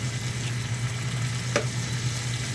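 Shrimp frying with garlic in a pan crackle and sizzle steadily under a low hum, with one brief sharp clink of a utensil partway through and no voices.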